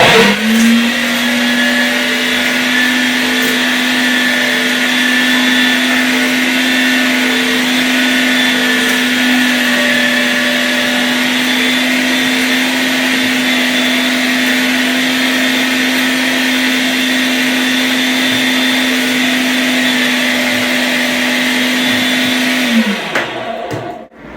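A 500W electric meat grinder processes bear meat, a loud, continuous motor whine close by that holds steady for over twenty seconds before winding down at the end.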